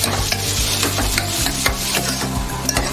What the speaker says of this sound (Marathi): 2 चिरलेले छोटे टोमॅटो घालून घेऊया। व्यवस्थित असं परतून घेऊया।